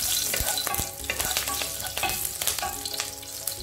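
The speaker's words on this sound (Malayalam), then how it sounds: "ഓയിൽ ചൂടായതിലേക്ക് 1 ടീസ്പൂണ് പെരിഞ്ജീരക ഇട്ട് കൊടുക്കുക. അതിലേക്ക് 2 പച്ചമുളക് നടുകെ കീറിയിട്ട് കൊടുക്കുക." Fennel seeds and two slit green chillies frying in hot oil for chicken sukka, a loud close crackling sizzle with rapid pops and spatters and some stirring clatter, no voices.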